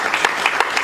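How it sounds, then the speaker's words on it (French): Audience at a French speaking competition final clapping, a brief burst of dense applause with a few louder claps standing out, heard up close. "Et applaudissez-vous."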